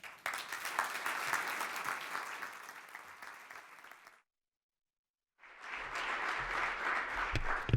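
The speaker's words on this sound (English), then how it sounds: "Ladies and gentlemen, please, a warm round of applause for Payal Arora" Applause rises for a keynote speaker at a media conference, a steady mass of clapping from a seated audience that cuts to silence for about a second, then resumes just as full and fairly distant.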